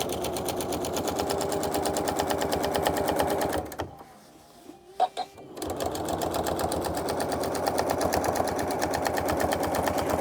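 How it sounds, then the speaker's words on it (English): Sewing machine stitching in the ditch while machine quilting, a fast, even mechanical rattle running steadily, pausing briefly midway with a few clicks and thumps, then resuming at full speed. "I'm doing stitch in the ditch quilting"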